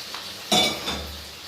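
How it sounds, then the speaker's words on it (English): Cooked pasta is poured into a strainer in a home kitchen, a sudden splashing rush of water with a brief metallic clink that fades quickly, with no voices. "So I'm going to go ahead and strain this off right here."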